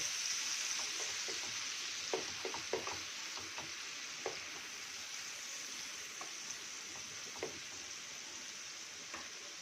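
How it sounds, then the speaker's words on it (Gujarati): Grated onion frying in oil while it is stirred, a steady sizzle under a string of light scraping taps from the spoon against the pan. "આપણી ડુંગળી એકદમ સરસ તેલમાં સોતળાઈ ગઈ છે"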